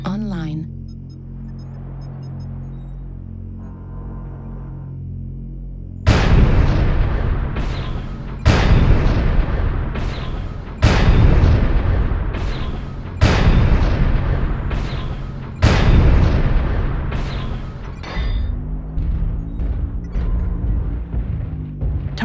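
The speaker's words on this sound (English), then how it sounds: "Artillery strike online." Artillery strike explosions from a video game: a string of about six loud, heavy booms spaced roughly two seconds apart, each with a long rumbling decay, following a quieter stretch of background noise.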